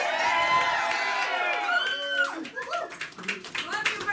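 Audience applauding Bernie Sanders: a crowd claps and cheers, with whoops and scattered shouts, lively and fairly close. It follows a trailing note or voice.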